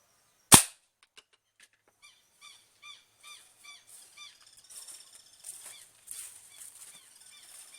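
A CBC G2 air rifle fires at a bar of soap with one sharp, loud, close crack, followed by a string of faint, rhythmic chirping in the background.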